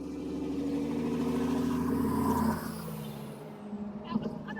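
A dirt truck rumbles past on a rural road on Prince Edward Island, a loud low engine drone that peaks and then fades as it moves off, followed by faint rattles.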